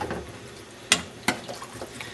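A spoon stirring a red chile powder mixture in a pan, breaking up lumps against the sides, two distinct scraping knocks over a soft, low sizzle, close and without speech.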